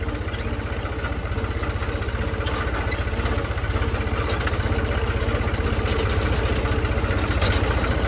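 Tractor engine idling in a farm field, a steady, close diesel chug with a regular low pulsing rhythm that rises slightly toward the end.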